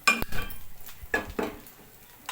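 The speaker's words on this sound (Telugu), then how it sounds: "ఇలా ఒక మందపాటి గిన్నె అయితే పెట్టుకోవాలి" A thick cooking pot is set down on a stove with a few sharp metallic clanks and clinks, spaced out and fairly close, with no talking.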